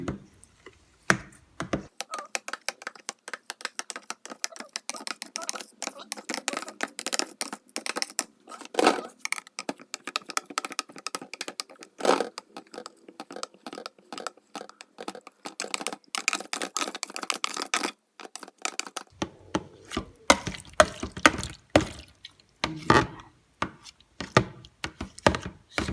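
Knife cutting soft macapuno jelly into cubes, a long run of quick, irregular taps and light thuds on a board, close and fairly quiet, with a few louder knocks scattered through.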